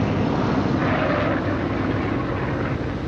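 A World War II military aircraft's engine drones as the plane comes in to land at an airfield, a loud, steady roar that holds throughout.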